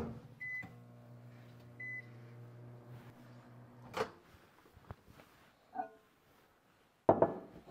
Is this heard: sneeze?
no